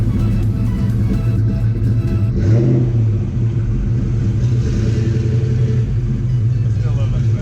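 A lowered Fox Body Mustang's V8 rumbles steadily at close range, with a brief rev rise near the middle that settles back into a deep, continuous idle drone.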